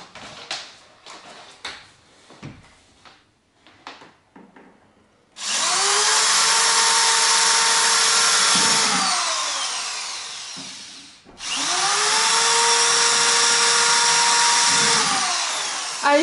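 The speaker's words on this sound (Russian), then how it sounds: "сверлим на месте." A power drill bores in place during floor laminate work on a home renovation. A few scattered knocks and taps lead into two long, loud, steady drilling runs, each winding down at the end.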